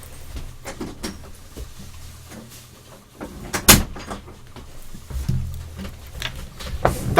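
A real room door opening and closing indoors, with thuds and handle clatter and one sharp loud clack midway, amid faint shuffling movement.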